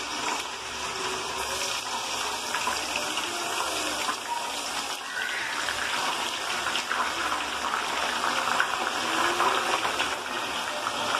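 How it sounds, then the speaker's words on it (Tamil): Hair oil mixture with cut gooseberry pieces boiling and sizzling in hot oil in a pan, a steady close bubbling hiss that runs throughout without talk. "இது இந்த மாதிரி நல்லா கொதிச்சு வரப்போம்"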